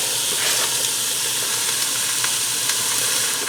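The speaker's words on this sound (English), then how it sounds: "I'm going to saute this till the onions are brown, until the onions are sauteed and the ground beef is browned up" Ground beef and onions sauteing in a Ninja Foodi give a steady, dense sizzle with small crackles and pops, loud and close, with no talk.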